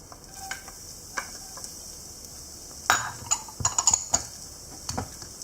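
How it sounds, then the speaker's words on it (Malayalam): Garlic added to melted butter in a pan, crackling in quiet, sparse pops and sizzles that cluster and grow busier toward the middle, with no talking. "മെൽറ്റായ ബട്ടറിലേക്ക് ഇനി വെളുത്തുള്ളി ചേർക്കാം."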